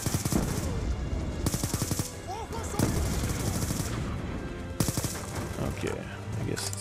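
Gunfire and mortar fire in Call of Duty Black Ops II, continuous rattling shots and bursts with heavy booms throughout, loud and dense, with a voice talking now and then beneath.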